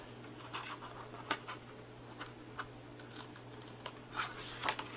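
Scissors snip paper for a no-glue box with a handful of faint, sharp cuts spaced irregularly over a quiet room hum.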